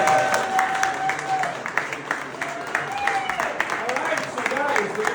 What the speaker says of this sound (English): Let's have a round of applause for Raimundo.